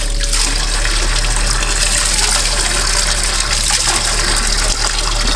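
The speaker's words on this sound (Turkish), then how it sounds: "Bu su akıyor burada." Spring water in Tepedoğan village, Sarıkaya, Yozgat, pours and gushes steadily and loudly, close by, with no speech over it.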